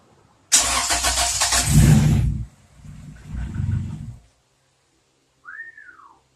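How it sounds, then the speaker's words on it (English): A Honda B16A2 engine fitted with ITR cams cranks and catches with a loud, close burst of starter whine and engine roar, drops back, revs again briefly, then shuts off, leaving a short whistle at the end. "I'm gonna turn it. It's gonna fire up."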